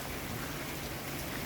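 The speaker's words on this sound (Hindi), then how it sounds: "बहुत तेज़ मूसलाधार बारिश हो रही है।" Heavy torrential rain pours down in a dense, unbroken roar, loud and steady with no voices over it.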